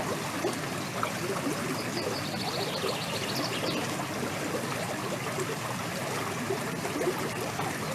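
Water flowing steadily at the base of a forest waterfall into a pool, a continuous broad rushing and trickling wash with no voices and faint birdsong above it.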